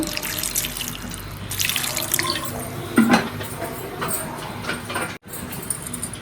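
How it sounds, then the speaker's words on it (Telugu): Water runs and splashes steadily into a vessel of tamarind while making ginger pickle, with small clinks and drips along the way, fairly close and continuous. "దీంట్లో కూడా కొద్దిగా వాటర్ వేసుకుందాం."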